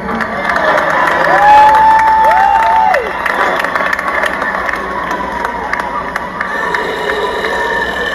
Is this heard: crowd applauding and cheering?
yes